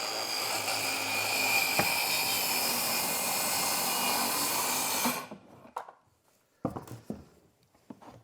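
A circular saw cuts through wood, a loud sustained whining buzz for about five seconds that abruptly stops, followed by brief clunks and handling knocks of the workpiece.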